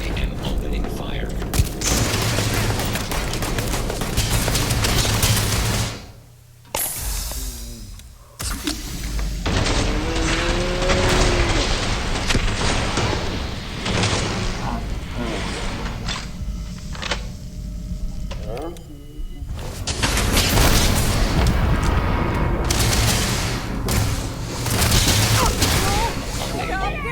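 Weapons fire and explosions in the StarSmith space video game ring out in dense, loud bursts that stop briefly twice before the barrage resumes.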